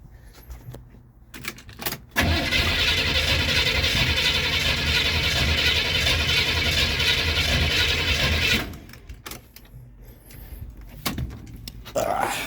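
A cold 4x4 Camaro engine is cranked and catches, a loud continuous rough roar running for about six seconds before it cuts out, with mechanical clicks and clatter before and after.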